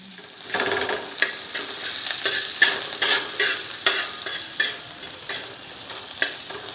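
Onions being stirred and fried in a pan for spicy dhaba-style mutton kheema bhurji, with a close sizzle broken by frequent clanking scrapes of a spatula at an uneven rhythm and no voices.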